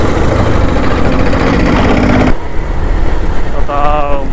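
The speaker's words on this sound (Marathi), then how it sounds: "बाईक" A motorcycle on a solo ride along a road toward Badlapur gives a steady, loud rumble mixed with wind roar, which eases slightly midway, and a voice briefly appears near the end.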